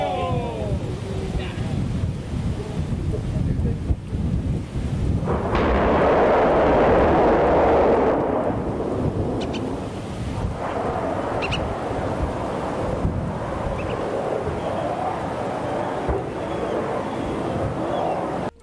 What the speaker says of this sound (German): Hört mal, was für einen Lärm ein Feuer mit 3 Triebwerken macht.